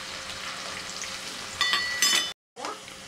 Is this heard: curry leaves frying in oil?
yes